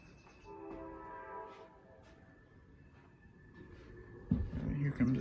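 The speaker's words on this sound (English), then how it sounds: "Here comes a train." A train passes at a railroad museum, a distant horn sounding in steady tones before a low rumble swells near the end, with people talking over it.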